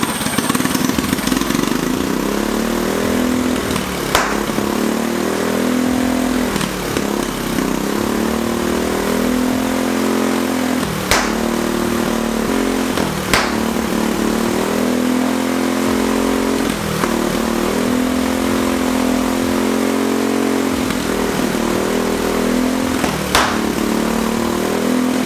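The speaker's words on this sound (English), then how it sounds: "I'll put in a clip of it running pretty good and shooting flames and stuff with both carburetors." A turbocharged go-kart engine with dual carburetors runs loud and close, revving up and falling back repeatedly in an uneven rhythm for the whole stretch, with sharp pops between revs and no talking.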